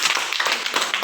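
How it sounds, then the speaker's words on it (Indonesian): Short burst of classroom applause from students in a vocational computer networking class, a brief patter of hand claps at moderate level with no talking. "tepuk tangan untuk kalian semua."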